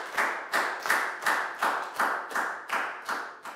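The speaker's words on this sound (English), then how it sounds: "a big round of applause for everybody doing a great job" A class claps together in a lesson, about eight slow, regular unison claps evenly spaced and fairly close, with no talking.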